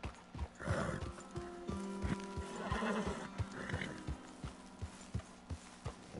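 Horse hooves clip-clop steadily in Red Dead Redemption 2 game audio, with a couple of neighs and whinnies rising over the regular hoofbeats at moderate distance.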